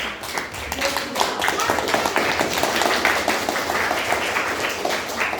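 A classroom of students claps together in a steady patter of many hands, fairly loud and close, lasting several seconds with a faint murmur of voices mixed in.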